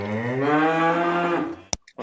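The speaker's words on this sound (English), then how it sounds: "Was that a cow?" A cow gives a single long, loud, close moo lasting over a second, its pitch rising and then falling away, followed by a couple of short clicks.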